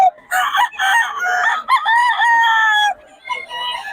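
Boss Tony's fighting roosters crow loudly and close, several overlapping cock-a-doodle-doo calls following one another over a few seconds.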